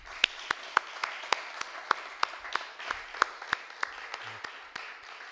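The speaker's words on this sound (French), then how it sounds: "Je crois qu'on peut les applaudir." Quiet, sparse applause from a small audience after a talk, with a few distinct near claps sounding out over a faint background patter.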